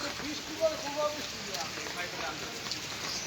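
Continuous rain from a Kalbaisakhi (nor'wester) storm in Barisal falls on a surface, a dense hissing patter with small irregular swells as gusty wind pushes it.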